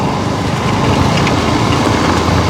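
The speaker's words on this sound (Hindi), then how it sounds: "हम मोटरसाइकिल से जा रहे हैं" A motorcycle rides along a rocky path through hilly terrain with a loud, continuous engine rumble, wind buffeting and rattling over the stones throughout.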